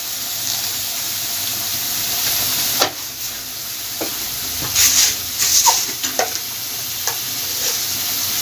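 Ginger and garlic paste fries in hot oil for a Bengali katla fish dish, a constant loud sizzle and hiss broken by scraping stirs and a few sharp spatters.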